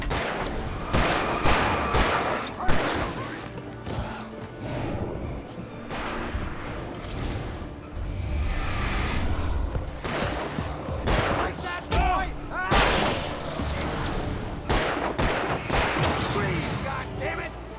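Gunfire from the video game Alan Wake Remastered: repeated bursts of shots and booming impacts spread across the span, dense and loud, mixed with game effects, with excited voices talking over them.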